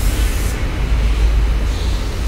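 Injector cleaner sprays in a steady, close hiss from an aerosol can during a Toyota gasoline fuel injector cleaning, a continuous broadband rush lasting the whole moment with no talk.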